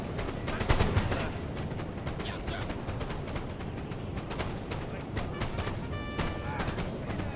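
Massed musket volleys and battlefield din as troops fire on an infantry square in Napoleon: Total War, a dense continuous roar with scattered sharp cracks and crashes throughout.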